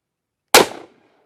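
A single sharp, loud report from a Cimarron Badboy .44 Magnum pistol firing a 200 grain XTP round at an outdoor range, with a short decaying echo afterward and no talk.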